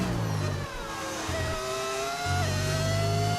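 Racing engines of F1 cars in the F1 25 video game, a steady high-pitched whine with low revving tones dropping away mid-clip and returning, sustained and fairly close with no talk.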